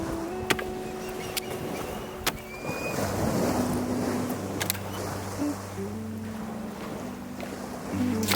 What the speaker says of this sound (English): We got a breeze from the ocean, which is nice.